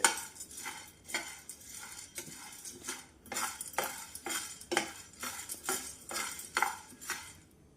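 Roasted chana dal being stirred in a pan for chikki: repeated scraping and clinking strokes of a utensil against the pan in an uneven rhythm, close and fairly quiet, with no talk.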